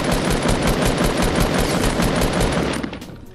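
Loud, sustained automatic gunfire in Fortnite, a fast unbroken stream of shots that fades out just before the end, with no talk.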